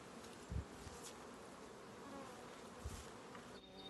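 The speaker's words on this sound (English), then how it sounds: "And now we'll take a look at a swarm being taken." A swarm of honey bees being taken from a hive, heard as a dense, steady buzzing hum of many insects outdoors, fairly quiet, with a couple of low thumps and no talk.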